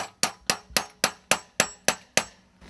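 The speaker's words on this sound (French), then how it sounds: "Le principe, c'est de mettre la goutterelle, de l'enfoncer pour bien boucher le trou." A metal spout is hammered into a tap hole in a maple tree: nine evenly spaced, ringing metallic strikes, close and loud, each decaying quickly.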